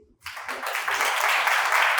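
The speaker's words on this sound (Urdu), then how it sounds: "اتنے دوست بیٹھے ہوئے ہیں، تالیاں بجائیں ان کے لیے" Applause breaking out among friends seated at a church lecture by a reverend canon professor, a dense burst of clapping that swells quickly and holds steady, fairly close and lively.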